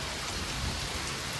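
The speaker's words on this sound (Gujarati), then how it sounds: "વરસાદ પડ્યો ધોમ ધોકારથી" A downpour of heavy rain in Balagam Ghed, Gujarat, a thick, steady roar of falling water and splattering drops, close and loud throughout the short stretch, with no one talking.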